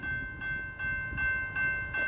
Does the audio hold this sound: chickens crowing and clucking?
no